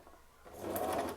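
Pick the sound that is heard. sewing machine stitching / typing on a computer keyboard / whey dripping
sewing machine stitching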